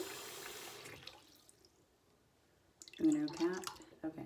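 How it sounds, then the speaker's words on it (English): Lukewarm tap water runs into a sink being filled to wash a synthetic wig, a steady rushing pour at the start that fades away, followed by a person talking. "refill it up with some lukewarm water"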